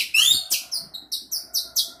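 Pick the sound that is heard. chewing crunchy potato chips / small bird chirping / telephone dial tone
small bird chirping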